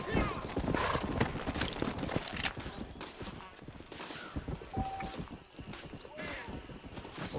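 Horse hooves clip-clopping in the Red Dead Redemption video game, a rhythmic patter of steps mixed with ambient game sounds and scattered gunfire, while someone talks over it.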